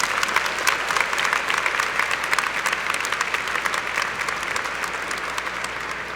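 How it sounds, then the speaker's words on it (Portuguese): A church congregation claps together in sustained, dense applause that stays steady and loud for the whole stretch, with no speech over it. "dá uma salva de palmas para Jesus Cristo"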